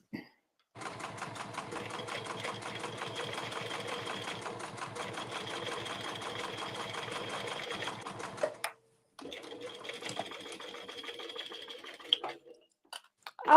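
A sewing machine stitches an emoji circle bag in two runs of steady rapid whirring and needle clatter, separated by a short pause, with a clunk at the end.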